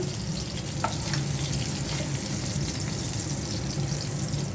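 Pangas fish frying in hot oil, a dense continuous crackling sizzle held close and steady throughout, with a faint utensil tap partway through and no voices.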